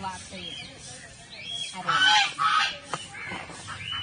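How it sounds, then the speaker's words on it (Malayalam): Geese honking at an elephant park picnic spot, a couple of loud harsh calls bursting out near the middle over a low murmur of outdoor background noise. "ഗൂസ് വാത്തൊക്കെ നമ്മൾ കണ്ടില്ലേ, താറാവ്."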